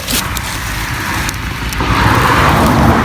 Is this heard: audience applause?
no